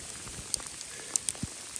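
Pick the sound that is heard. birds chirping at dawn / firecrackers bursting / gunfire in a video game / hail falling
hail falling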